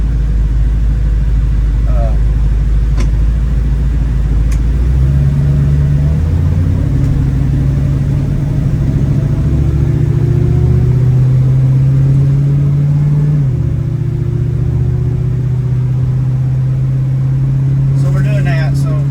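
A 1966 Ford Mustang fitted with Holley Sniper fuel injection idles with a steady, low rumble, while a voice talks over the engine throughout.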